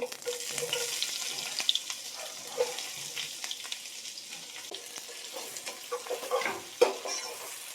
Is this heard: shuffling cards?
no